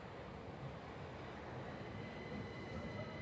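Steady, loud rumble of a Gatwick Express train heard from on board, continuous wheel and carriage noise filling the cabin with a faint high whine running through it.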